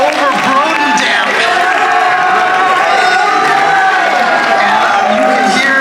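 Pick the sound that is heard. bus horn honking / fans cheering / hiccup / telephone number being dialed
fans cheering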